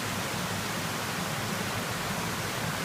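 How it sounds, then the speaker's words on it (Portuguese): Distant roar of the Cachoeira da Fumaça waterfall far below, a steady broadband wash of falling water with no breaks, fairly faint and uniform throughout. "Chegamos na Cachoeira da Fumaça."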